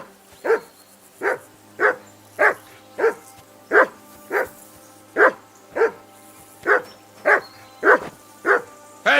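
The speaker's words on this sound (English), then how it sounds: "Call that dog to heel." A dog named Mutt barks in Kingdom Come: Deliverance II, about fifteen evenly spaced barks in a steady rhythm, close and clear, alone over a faint low background.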